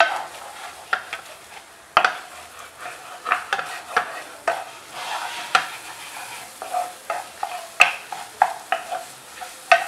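Scrambled eggs with onion stir-fried in a pan over high heat: steady sizzling broken by frequent scraping and clinking stirs of a utensil against the pan, close and fairly loud, with no talking.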